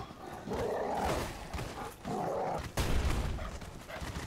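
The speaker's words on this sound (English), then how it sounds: "I heard a big growl in there." A wolf in the Dark Souls 3 video game growls and snarls in rough, sustained bursts, fairly close and loud, with no talking over it.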